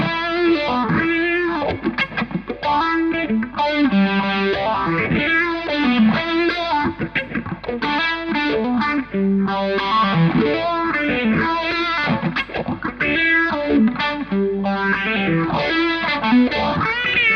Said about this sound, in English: So I can actually get a kind of auto wah sound with this.